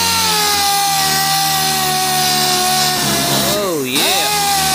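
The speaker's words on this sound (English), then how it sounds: "now we're gonna hit it with the 80 grit" Dry sanding of a 2015 Nissan car body with 80 grit sandpaper on a power tool, a loud steady whine with harmonic tones running throughout, briefly dipping in pitch near the end.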